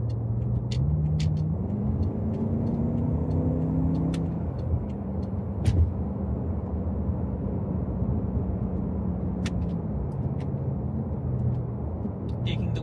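A used BMW F10 M5 rolls along a road, with a steady low engine and tyre rumble and the engine note rising and falling a little, heard from inside the car, close and continuous.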